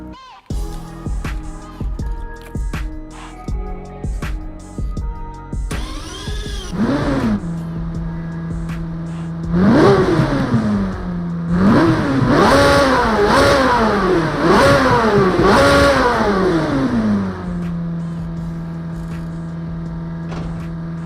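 A Ferrari 458 Speciale Aperta's 4.8-litre V8 idles, then revs hard several times in rising, falling blips before settling back to a steady idle, loud and close with no talking.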